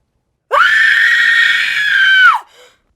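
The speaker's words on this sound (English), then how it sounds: "That was a legit scream." A person lets out a single loud, sustained scream lasting about two seconds, piercing and close, ending with a brief breathy tail.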